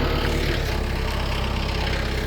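A Kubota tractor engine idles steadily with a low, even rumble and a faint rhythmic pulse, close by and unbroken, with no voices over it.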